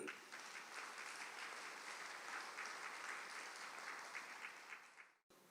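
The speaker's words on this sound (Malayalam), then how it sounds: "ഒന്ന് കൈയുയർത്തി കൈയടിക്കുക" A congregation at a Catholic prayer gathering with Fr George Panackal VC claps with raised hands, giving sustained, fairly distant applause that fades and stops abruptly near the end.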